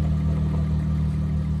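A Mk3 VR6 12-valve engine idles steadily with a deep, continuous low rumble, close and alone, with no distinct knock standing out clearly.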